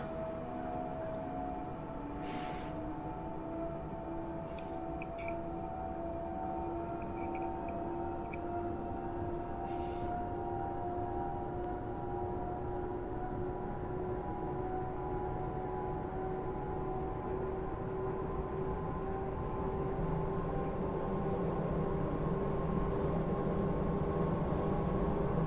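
A train in Train Sim World pulls away from a station on a Saxonia Express run to Dresden, with a steady low rumble and long drawn tonal whines that rise gradually as it picks up speed.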